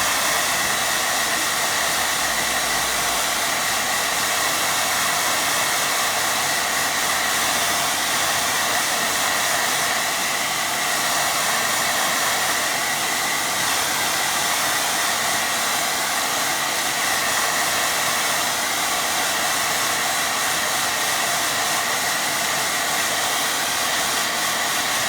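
A hair dryer blowing steadily to dry a watercolour painting, a loud continuous airy whir that holds constant throughout with no voices.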